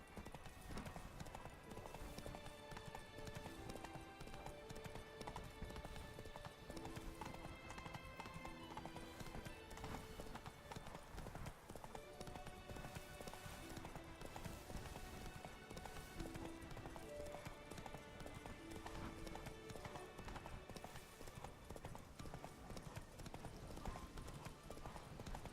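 Geralt's horse Roach in The Witcher 3: Blood and Wine gallops in a continuous rhythmic clip-clop over a dense orchestral game score, quiet and unbroken throughout.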